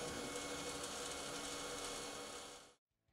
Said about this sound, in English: Finally, test the operation of the winch.